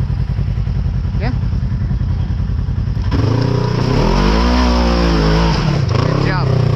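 An off-road vehicle climbing a steep trail on Indian Mountain, engine rising sharply into a loud, rough rev as it hits the climb hard, with a clattering idle before and a person talking over the noise.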